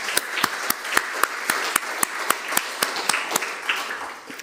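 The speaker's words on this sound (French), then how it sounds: "On l'applaudit une nouvelle fois Anne-Laure Pérez." Audience applause at an arts and sports award ceremony for the Paris 2024 Cultural Olympiad, a steady wash of many hands with sharp individual claps standing out, moderately loud and continuous.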